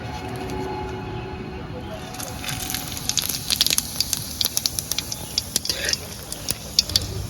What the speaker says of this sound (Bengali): তেল তো গরম হয়ে গেছে এবার ফোড়নে দেব জিরে শুকনো লঙ্কা আর তেজপাতা